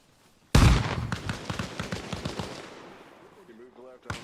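A frag grenade detonates with a single loud, sharp blast in Arma Reforger, followed by rolling echoes and rattling debris that fade over a few seconds while a voice speaks faintly near the end.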